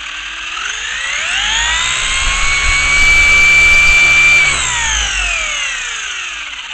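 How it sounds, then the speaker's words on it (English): A Traxxas RC car's electric motor runs at full throttle on the standard battery: a loud, layered whine sweeps up in pitch, holds a steady high scream for a couple of seconds, then winds back down. "That's full throttle. On the standard battery."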